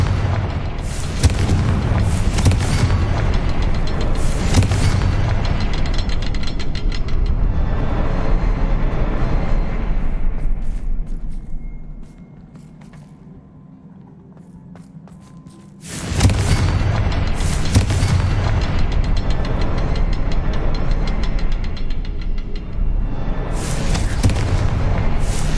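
Repeated loud spell explosions from Confringo in the video game Hogwarts Legacy, booming blasts packed close together, then a brief quieter lull before another dense run of heavy bursts.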